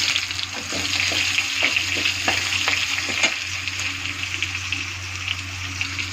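Onions dropped into hot oil with cloves, cinnamon and cumin, frying with a steady loud sizzle and scattered crackles and light stirring clicks, no voices.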